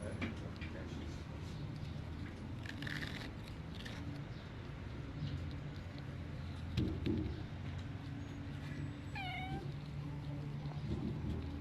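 An orphaned kitten mewing, a few short high cries late in the stretch, faint and thin over a low background hum, with a voice talking quietly now and then.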